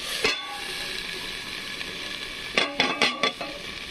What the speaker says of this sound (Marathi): म्हणजे वाफ बसते ह्याला पैकी असेल वाफेमुळे भेंडी छान शिजते